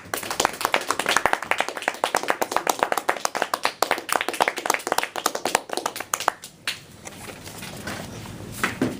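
A room of Toastmasters club members claps steadily for about six seconds to welcome a speaker to the podium, a dense patter of many hands that thins out and fades near the end.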